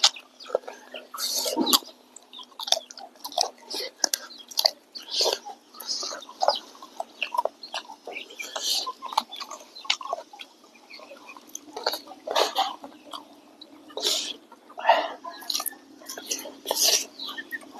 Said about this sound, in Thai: ไก่บุกละ